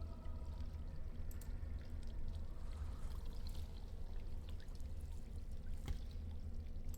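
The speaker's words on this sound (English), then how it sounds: "Take the earthen jug." Water pours steadily into an earthen jug in a video game, a continuous gurgling stream with a few faint clinks, heard alone without talk.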